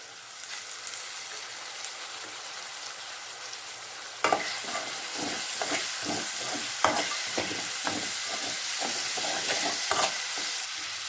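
Chopped tomato fries for a chicken gravy, a soft sizzle that turns louder after a clatter, then a run of regular scraping stirs over steady frying hiss, close up and with no voices.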